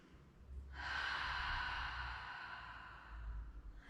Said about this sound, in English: take one more cleansing breath before opening the eyes